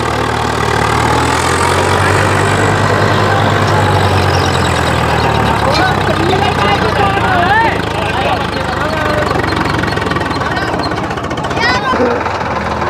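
Heavy tractor engines, including a Tata tractor, roar loudly and without a break at a tractor pulling competition held in a farm field, while a commentator and other people talk over the din.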